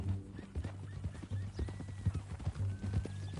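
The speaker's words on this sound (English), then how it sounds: "That a new horse?" Horse hooves clip-clop at an unhurried walk in the Red Dead Redemption video game, a rhythmic series of close, moderately loud hoofbeats with a brief whinny and faint voices in the background.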